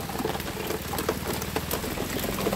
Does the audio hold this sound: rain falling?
yes